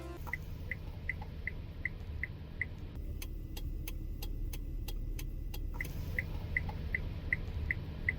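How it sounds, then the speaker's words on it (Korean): The electronic turn signal of a fourth-generation Hyundai Grandeur TG ticks in a steady, even rhythm over a low idling car hum, briefly shifting to a sharper tick pattern midway before returning to the original beat. "전자음이 나는 방향지시등으로 바뀌었고"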